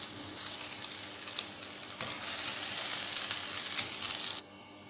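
Okra sizzles steadily in hot mustard oil in a pan, a dense, bright frying crackle that swells louder midway, then cuts off near the end.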